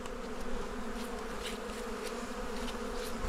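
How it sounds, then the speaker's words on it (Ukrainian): Honeybees swarm around open beehives at an apiary, a dense continuous buzzing drone close by and fairly loud, with individual bees passing near, and no voices. "тут дуже небезпечно, багато бджіл"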